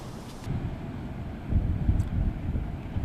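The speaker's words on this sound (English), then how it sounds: "And Michael, even windier here this morning" Steady hurricane wind from Hurricane Dorian in Florida roars and buffets the microphone, with low rumbling gusts that strengthen partway through.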